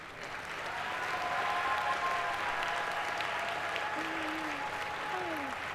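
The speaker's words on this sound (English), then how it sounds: "Our virtual middle college scholars, please, a round of applause." Graduation ceremony crowd giving a round of applause for dual-enrollment scholars, a broad, steady roar of clapping in a large hall that swells and holds, with faint whistles or cheers above it.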